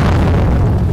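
A nuclear explosion in a Roblox Godzilla kaiju game roars as a loud, deep, continuous rumbling boom that fills the whole moment without letup.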